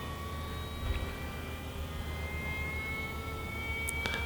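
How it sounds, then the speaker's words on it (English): E-flite Delta Ray One RC airplane making full-throttle flybys: a steady, thin electric motor whine holding a high pitch, fairly distant and faint over outdoor background noise. "Maybe give some full throttle flybys."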